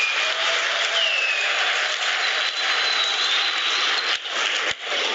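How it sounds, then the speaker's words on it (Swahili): Members of the Young Africans general meeting applaud together in sustained, dense clapping that fills the room and holds steady before thinning near the end. "Tujipigie makofi kwa wote tunaosema ndio."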